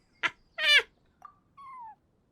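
Cat meowing in a video game, a few short close meows and chirps separated by pauses, clear and alone.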